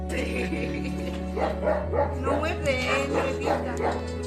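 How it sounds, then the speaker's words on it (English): A dog stuck and panicking in household curtains, giving repeated yelping whimpers and short barks in an uneven rhythm over a steady low hum and background noise. "This poor dog somehow got stuck in the curtains, and it was panicking pretty badly"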